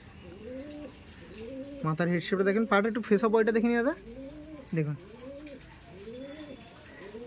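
Chennai tournament pigeons coo in repeated arched calls throughout, close by, while someone talks over them in the middle.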